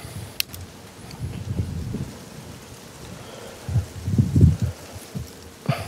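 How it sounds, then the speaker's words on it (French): Gusty wind blows outdoors at an airgun range, rumbling against the microphone in low buffeting surges that swell toward the end, with a couple of sharp clicks and no speech. "il y a un peu de vent là"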